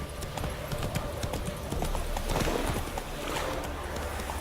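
Hooves of Roach the horse gallop in a fast, steady clip-clop in Witcher 3, close and continuous over a wind-like outdoor ambience.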